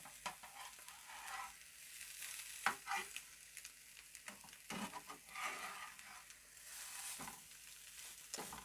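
Spanish omelette of eggs frying in a pan, a soft steady sizzle with scraping and stirring as it is shaped, occasional small knocks, quiet and close, no talking.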